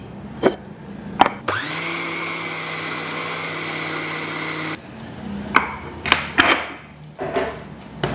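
A blender runs steadily for about three seconds grinding chicken meat into a thick meatball dough, with a steady whine, bracketed by short knocks and handling clatter before and after.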